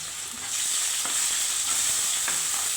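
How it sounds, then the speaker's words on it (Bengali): Onion with green chili and salt sizzles steadily in hot oil in a pan, a loud continuous frying hiss with faint stirring scrapes and no talking. "ভালো করে ভেজে নেব পেঁয়াজটা।"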